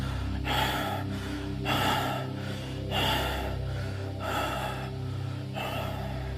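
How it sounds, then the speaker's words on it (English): Heavy rasping breaths come in rapid rhythmic gasps, about one every second, loud and close over a steady low hum, with no talk. "Your breath continues to rasp in rapid gasps."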